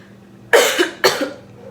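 Two loud, harsh coughs in quick succession, close up, with quiet background before and between them.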